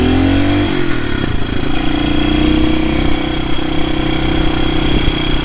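The single-cylinder engine of a 1972 BSA B50SS Gold Star motorcycle runs loud and close. Its pitch shifts early on, then settles into a steady thrumming drone while the bike rides along.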